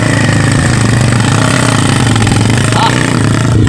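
Motorcycle engines run steadily close by, a loud continuous idling drone with faint revving texture, while people talk over the noise.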